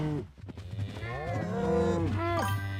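Cow mooing in a video game, a long drawn-out low moo that swells and bends in pitch, close and clear with no talk over it.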